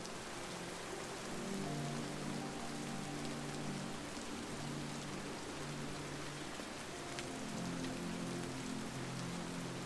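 Steady rain falling on a surface, a dense even hiss of many drops, close and continuous, with a faint low rumble underneath.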